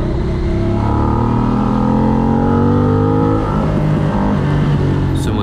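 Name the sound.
motorcycle engine revving at full throttle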